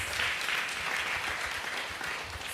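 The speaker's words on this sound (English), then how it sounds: "Give us a round of applause." Steady, dense applause from a church congregation during a Sunday service, filling the space evenly for a couple of seconds without a break and without any voices over it.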